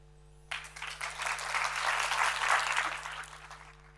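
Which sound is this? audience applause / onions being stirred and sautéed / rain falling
audience applause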